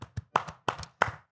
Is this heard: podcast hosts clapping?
yes